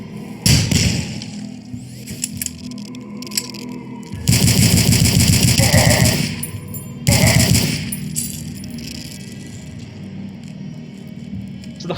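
Riveter weapon in the shooter game DUSK fires in loud, rapid bursts of heavy metallic impacts, with three distinct volleys separated by short gaps and no talking over them.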